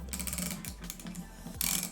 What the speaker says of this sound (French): Ensuite, je prends la douille de 19 pour serrer la vis principale et extraire totalement le roulement.